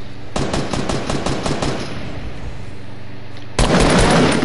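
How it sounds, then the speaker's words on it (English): Automatic gunfire in a duos shooter video game, a rapid burst of close shots that stops, a short lull, then another loud burst at the end. "I'm getting shot at."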